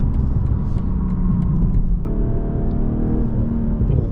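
A 2024 BMW M340i xDrive drives on, its engine a deep, steady rumble heard from inside the cabin, loud and continuous, with a brief shift in pitch midway.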